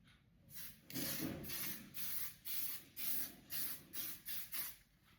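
A makeup setting spray bottle hisses in about eight short bursts, close and fairly steady, each puff separated by a brief pause.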